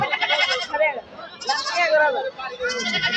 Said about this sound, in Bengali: অনেক সুন্দর একটি হরিণা জাতের মা ছাগল